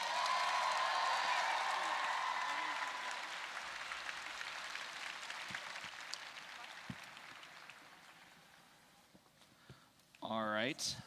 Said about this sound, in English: Folks, can I get a bigger round of applause for our number 8 alliance?